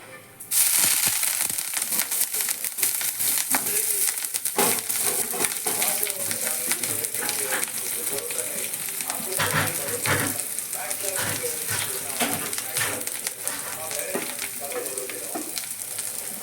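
Chopped tender banana leaves sizzle loudly in a hot pan for a Kerala-style thoran, with crackling spatter and occasional stirring clinks continuing steadily up close, no voice over it.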